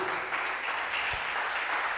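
A church congregation applauds during a Bible study, a steady wash of clapping hands that carries on evenly with no pauses.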